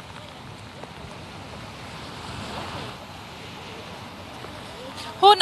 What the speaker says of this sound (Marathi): हो, नक्कीच अजूनही पाऊस सुरू आहे